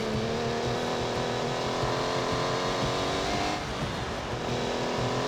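Car engine revving and accelerating in The Grand Tour video game, a continuous buzzing drone that holds steady with a brief dip near the end, with no talk over it.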